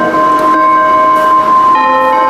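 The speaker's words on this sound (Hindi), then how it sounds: "अरे घंटी बजी भाई, कहाँ है घंटी?" A bell rings during a physics lecture in a classroom: steady, sustained ringing tones that hold for a couple of seconds at strong volume.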